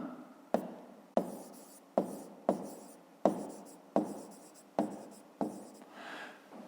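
A pen writes on paper while numbers are worked out for a fifth-grade maths exercise. About nine crisp strokes and scratches fall in an even rhythm, close and quiet, with no talk.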